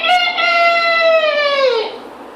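A man imitates a rooster's crow with his voice, one long rising-then-falling call about two seconds long, close and loud.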